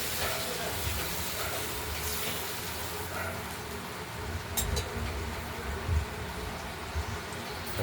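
Ground spice paste mixed with turmeric sizzles and hisses in a hot wok for katla fish curry with potatoes, a steady close frying sound with occasional louder spits.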